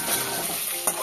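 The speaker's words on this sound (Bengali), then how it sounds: "এবার আলুগুলো একটুখানি" Potatoes hissing loudly in hot oil in a wok, a dense continuous sizzle with a brief scrape of stirring near the end; no voices.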